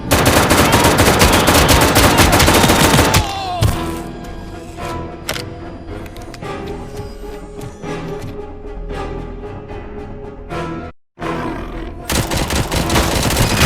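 Sustained automatic gunfire from the ED-209 robot in the RoboCop: Rogue City video game, a loud continuous burst followed by scattered shots and mechanical clatter, then a brief gap before another heavy barrage.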